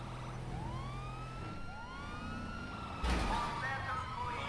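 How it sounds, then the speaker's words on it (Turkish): A police car siren wails in the GTA V video game during a chase, with rising and falling tones sweeping repeatedly over steady engine and traffic noise, growing louder near the end. "Sanırım şurada bir tane daha polis arabası varmış yolda."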